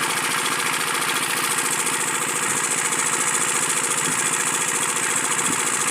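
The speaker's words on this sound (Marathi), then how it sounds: "मी दहा मिनटं इंजिन इथं सुरू ठेवणार आहे" A water pump engine, due to be left running for ten minutes, runs at a steady idle with an even mechanical drone and faint knocking throughout, close by and alone.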